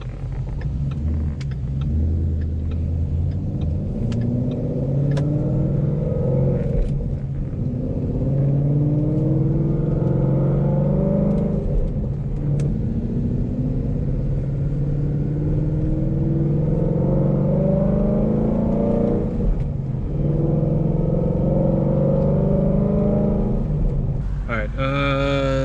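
A race car being prepped drives down a road, its engine rumbling close and loud, rising in repeated revving surges between gear changes.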